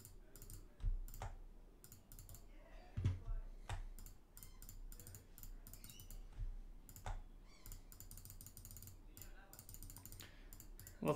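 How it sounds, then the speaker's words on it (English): Computer mouse and keyboard clicking during Photoshop editing, with soft irregular taps and bursts of clicks, some quick runs and pauses, quiet and close. "Lots of clicking, working my way around"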